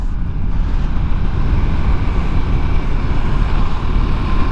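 KTM 390 Adventure motorcycle on Kenda Trakmaster DTR tires riding in the rain, a loud, steady engine roar with wind rush close up; two downshifts into fourth are not clearly distinct from the drone.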